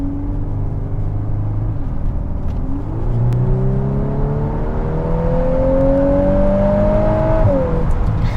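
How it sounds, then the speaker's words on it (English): A 2022 Volkswagen Golf R Mk8 with DSG transmission revs on back roads after a downshift, the engine note rising steadily and holding a loud, continuous drone from inside the car. "it know I want to downshift, and it just downshifts"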